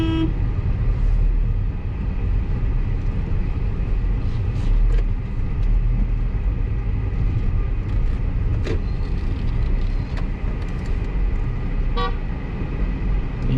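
Cars on a road in the town of Vengurla honk from behind under a constant loud rumble of traffic and engine noise, with a few brief horn toots scattered through it.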